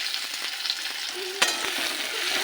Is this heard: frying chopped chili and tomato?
yes